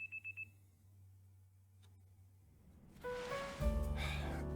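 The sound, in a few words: alarm clock going off in the video game Pokemon Legends Z-A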